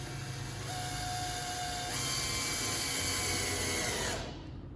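Power driver whirring steadily while screwing into a table leg jig clamp, its motor pitch rising midway, then stopping abruptly, close and continuous.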